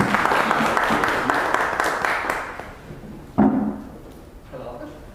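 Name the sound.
audience applause welcoming a speaker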